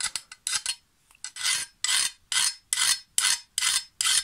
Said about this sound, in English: I'll sharpen a bit of it and then I'll take my flat file